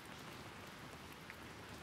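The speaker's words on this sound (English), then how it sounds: "Outside, a silver rain continues to fall." Rain falls outside in a soft, even, continuous patter and hiss, faint and steady with no voices over it.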